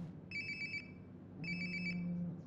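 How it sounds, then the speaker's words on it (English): A mobile phone rings nearby in a bathroom in Life Is Strange: Before The Storm, two short electronic trilling bursts separated by a pause, clear against a low room hum. "Sounds like my phone is definitely nearby."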